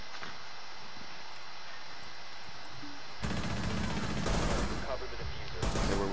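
Automatic gunfire in Rainbow Six Siege, a quiet stretch giving way to loud, rapid close-range bursts of shots with brief pauses, while players talk.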